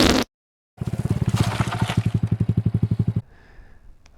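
A Honda C125 Super Cub motorcycle with an aftermarket Yoshimura exhaust fires up after a brief silence and revs with a deep, throaty, rapid pulsing exhaust note, then drops to a quieter idle.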